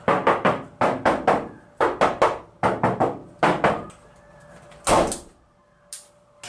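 A car's driver-side door, the unlined side compared with a door treated with sound deadener, gets rapped in repeated groups of resonant, ringing knocks. A loud slam follows near the end, then a faint tap, all close and free of speech.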